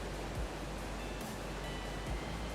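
A large waterfall in ARK Survival Evolved gives off a dense, even roar of rushing water, loud and unbroken throughout.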